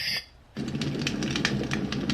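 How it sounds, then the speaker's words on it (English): A Renpho white noise machine plays a crackling fire track: a steady, soft hiss carries irregular pops and snaps. It starts after a brief quiet gap and continues alone at low level. "They're like just a crackling fire."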